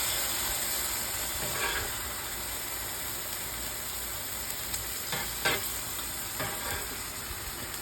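Smash burger patties topped with onions sizzle on a hot flat cooking surface after being flipped, giving a constant crackling hiss with a few brief scrapes and taps of a spatula.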